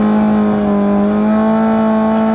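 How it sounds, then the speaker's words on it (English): Nitrous-fed ZX14 drag bike on a bye run in a street tire drag race, a loud sustained high engine tone with a steady rising pitch, close and alone. "This racer on the ZX14 gets the bye run."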